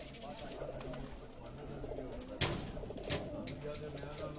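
Lakha breed pigeons coo softly in a rooftop loft setting, giving a low steady murmur with a couple of sharp knocks or wing sounds, fairly quiet and close.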